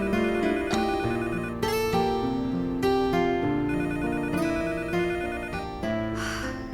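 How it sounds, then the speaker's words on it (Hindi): A melodic electronic ringtone chimes in repeating phrases, loud and continuous, fading slightly toward the end, with nobody speaking. "मैं देखता हूँ किसका फोन है।"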